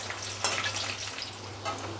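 Sliced onion and potato fry in a pan for a mushroom biryani, making a soft, steady sizzle with a couple of light crackling pops.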